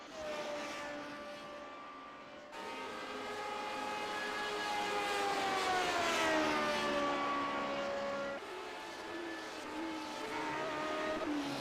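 Race cars lapping the Daytona road course in the iRacing simulator, a loud, close, sustained high engine whine with rising and falling pitch as the cars shift gears and pass, no one speaking.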